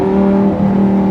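A Honda Civic Type-R FL5 engine holds a loud, close, steady tone with a strong humming drone, briefly wavering mid-way.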